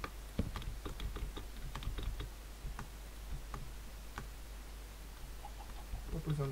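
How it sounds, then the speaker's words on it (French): Keys on a mechanical computer keyboard click in quick, irregular bursts, faint and close under a steady background hiss, with no one speaking over them. "Désolé si vous entendez le bruit de mon clavier, c'est un clavier mécanique, du coup il fait pas mal de bruit."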